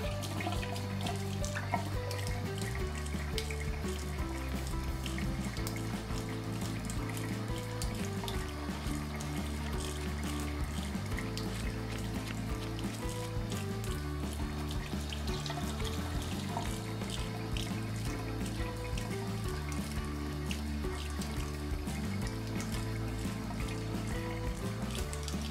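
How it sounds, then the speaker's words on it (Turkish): Hot water runs steadily from a bathroom tap into the sink, a continuous close splashing flow with no voices over it. "Biraz daha açalım sıcak suyu."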